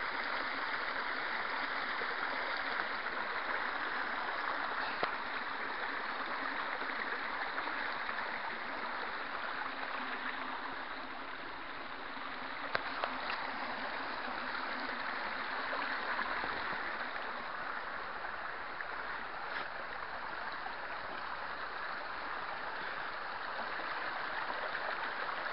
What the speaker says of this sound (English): This waterfall just weaves down through the trees here.